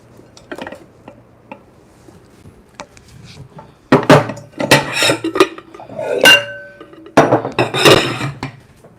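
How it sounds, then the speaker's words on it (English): Dishes and a big bowl clinking and clattering in a home kitchen, sparse light knocks at first, then a dense burst of loud ceramic and metal clanks near the end. "Now let me get a big bowl."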